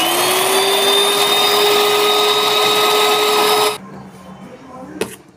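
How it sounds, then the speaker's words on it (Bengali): An electric beater whips egg whites for a strawberry cake, a steady loud motor whine with a rising pitch for several seconds, then it cuts off, leaving faint kitchen noise and a brief clatter. "ডিমের এই সাদা অংশটাকে আমি এবার ভালো করে একটু ফেটিয়ে নেব।"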